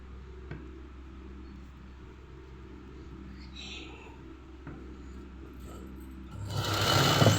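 A sewing machine runs steadily, stitching thread piping along a fabric edge, with a continuous low motor hum through the clip. The sound grows louder near the end as a sharper burst of noise rises over it.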